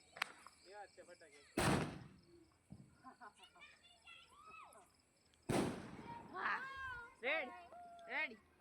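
A Diwali sky shot firework is set off near a home, with two sharp, loud bursts separated by high, whistling and chirping tones, heard fairly close amid a quiet background.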